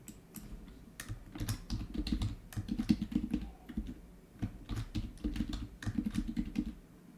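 Someone types a password on a computer keyboard while setting up MySQL Server on a Windows 10 PC. The keystrokes come in quick, irregular bursts with short pauses, close and clear, and no one speaks.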